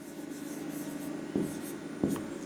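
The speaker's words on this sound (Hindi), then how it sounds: "तो हम यहाँ पे लिख लेते हैं" A pen scratches steadily across paper while a land-price sum is worked out by hand, a soft continuous writing rasp with two brief louder strokes, no voices.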